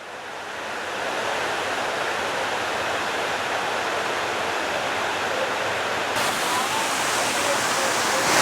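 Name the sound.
Juney Whank Falls waterfall at Deep Creek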